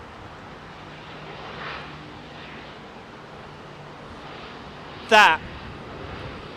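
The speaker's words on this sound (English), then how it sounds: "is a very short takeoff run for a 787. Very short." A Boeing 787 takes off at Heathrow Airport, heard as a steady, distant jet roar spread across the whole stretch, with a brief spoken word cutting in near the end.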